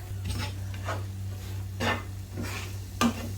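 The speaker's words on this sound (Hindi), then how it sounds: "और मावे को मैं स्पैटुला से हल्के हल्के प्रेस भी कर रही हूँ ताकि इसमें कोई भी लम्स ना रहे।" Mawa being roasted in a pan and pressed with a spatula, giving soft scraping and stirring strokes at an irregular pace over a steady low background hum, with a faint sizzle.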